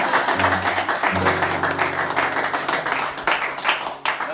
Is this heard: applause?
yes